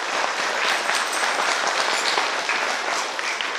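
A crowd at a Romanian folk festival of winter customs and traditions gives sustained applause. The dense, even clapping holds at a steady level from start to finish.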